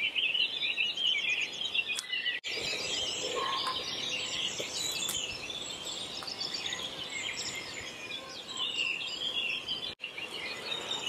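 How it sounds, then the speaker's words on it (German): Early-morning birdsong at a forest edge, many birds chirping and twittering at once in a dense, continuous chorus, with a steady high insect-like buzz under it and no talking. "Hört ihr übrigens das tolle Vogelgezwitscher?"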